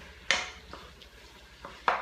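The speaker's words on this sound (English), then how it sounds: "Let me give this a little bit of a stir." One-pot chicken parm being stirred in a pot: a few sparse, light scrapes and clinks of a utensil against the pot, close and quiet, with no talk.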